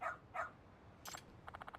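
A dog in the video game Lost Judgment barks twice clearly, then after a pause gives a couple of quick yips and a rapid string of short soft barks, heard alone over a quiet game background.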